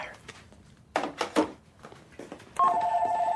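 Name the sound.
telephone speakerphone beeps in a film clip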